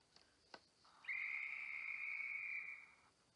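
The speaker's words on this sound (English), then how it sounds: "Now the guard's whistle will always be done from the dummy car" A guard's whistle from a DCC sound decoder in a class 43 HST model train gives a single sustained, shrill tone of about two seconds, preceded by a couple of faint clicks, clear and alone at low volume.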